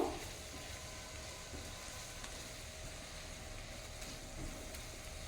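Tomato masala for a spicy prawn curry fries gently in a pan, giving a faint, steady sizzle with low stirring movement and no voices.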